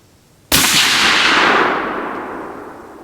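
A single sharp, loud report from a Bergara B-14 HMR .308 rifle, cracking suddenly then rolling off in a long fading echo across the range.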